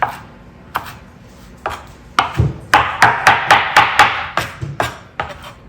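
Knife rough-chopping parsley on a cutting board, a steady run of sharp, close thuds that start sparse and speed into a quick rhythmic burst before slowing again, with no talking.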